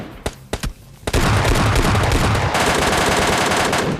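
An MK14 rifle fires in PUBG Lite: a few sharp single shots, then loud, dense, rapid gunfire that continues for several seconds, close and intense.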